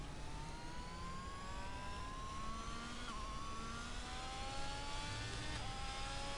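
A Ferrari race car in a racing video game roars past with a steady, rising engine whine over continuous track noise, moderately loud and with no talk over it.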